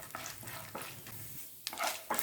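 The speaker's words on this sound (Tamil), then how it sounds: "இது கொஞ்சம் நல்லா ஃப்ரை ஆகணும்." Small urad dal and chana dal lentils sizzle and crackle in hot oil, with rhythmic scraping stirs every half second or so.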